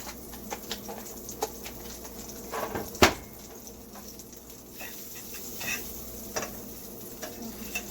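Butter melting in a pan for a turkey and egg grilled cheese sandwich, a faint soft sizzle with scattered light clicks and one sharper tap partway through.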